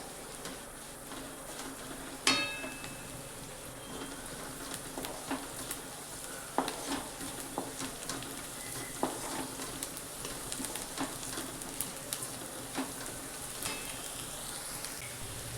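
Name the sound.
onion frying in a pan for kanda pohe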